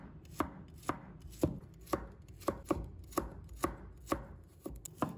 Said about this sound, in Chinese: 再准备一把大蒜， 把它切成片